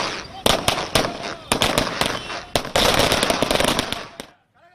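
Firecrackers set off by party supporters at a political celebration in Tamil Nadu after a state assembly confidence vote: rapid, loud, close cracking bursts in dense clusters, ending abruptly into near silence, with voices faintly mixed in.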